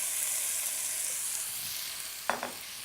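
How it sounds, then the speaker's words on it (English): Chopped eggplant sizzling in a hot pan over high heat, a constant loud frying hiss with a couple of sharp clatters from tossing near the end. "I've finally chopped the eggplant and I'll add that in"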